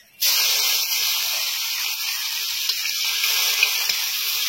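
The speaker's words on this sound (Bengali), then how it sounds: "প্রথমে কড়াই কাঁচা লঙ্কা এবং 5 ফোড়ন দিয়ে দিচ্ছে" Green chillies and five-spice seeds hitting hot oil in a kadai while cooking a village-style fish curry, giving a sudden loud, steady hissing sizzle that starts abruptly and holds evenly with small crackles throughout.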